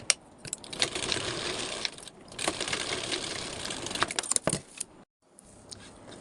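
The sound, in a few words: sewing machine stitching blouse lining fabric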